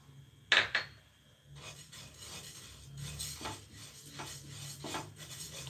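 Cashews and raisins roasting in a pan for coconut thirattupaal sweet, with two sharp clinks of a utensil on metal and then steady soft scraping and stirring, quiet and close, with no one speaking.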